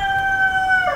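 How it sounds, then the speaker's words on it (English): A rooster crows in a single brief, sustained call, fairly loud and steady, heard on its own without any talking. "there, you can hear the rooster."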